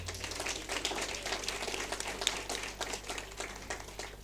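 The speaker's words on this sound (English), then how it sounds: "One more applause for our principal, please." An audience at a school launch event applauds its principal, a dense, continuous patter of many hands clapping at moderate volume over a low hum.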